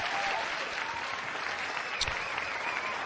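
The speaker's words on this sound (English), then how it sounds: "Give them a round of applause." Steady applause from a crowd, clapping continuously at an even level throughout with no break.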